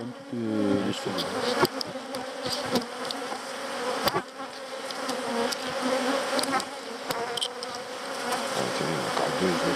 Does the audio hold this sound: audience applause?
no